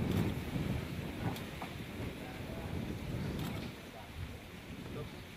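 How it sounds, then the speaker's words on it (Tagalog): Strong wind buffets the microphone outdoors on a commercial shoot, a steady rumbling roar with gusts that eases slightly toward the end, heard alone. "Ang lakas ng hangin."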